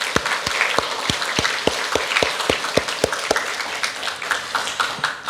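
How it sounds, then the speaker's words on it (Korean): A church congregation claps together after a choir's hymn, a lively burst of many hands with a few sharp individual claps standing out near the front. "같이 한번 큰 박수 치겠습니다."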